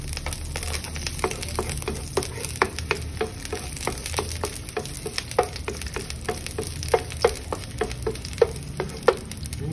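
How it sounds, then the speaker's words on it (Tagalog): Garlic, onions and crab stick sauté in a pan, giving a steady sizzle and fry broken by frequent light clicks and taps of a utensil stirring, moderately close and without talk. "And then, saute the garlic, the onions, guys, the crab stick, guys."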